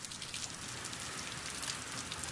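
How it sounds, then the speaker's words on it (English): Steady rain falls on the stone capstone of an old burial chamber, a dense, even patter of drops heard close and continuous, with no voices. "Can you get an extreme close-up of water hitting the capstone?"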